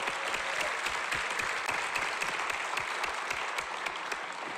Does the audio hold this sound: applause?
yes